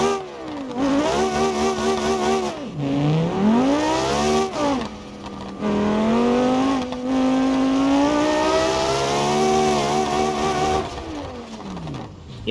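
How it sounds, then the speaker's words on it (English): A Cherrier F320 Formula 3 car's inline-5 engine in the BeamNG video game screams loudly up through the revs, with sharp upshifts, dips on lifts and throttle blips, close and continuous with no voices. "let's just take the F320 Advance with no halo, which this one has an inline 5 and is definitely the best sounding one of them all"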